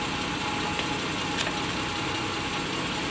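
A 3.6L Pentastar V6 in a 2011-2023 Dodge Charger idles close up during engine and transmission work, giving a steady, even running hum with no change in pace.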